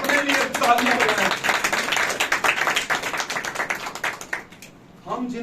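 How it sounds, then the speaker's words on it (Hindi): Audience clapping in a Hindi-language sermon or church gathering, a dense burst of many hands with a voice shouting over it, thinning toward the end before speech returns. "अपने लिए तालियां बजाएं।"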